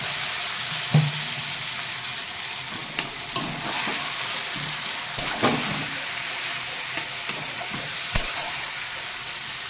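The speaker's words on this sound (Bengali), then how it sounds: "সর্ষে দিয়ে কষতে দিই" Kochu loti and shrimp stir-frying with mustard paste in a pan, a steady close sizzle under scattered clinks and scrapes of a spatula stirring, with no talk.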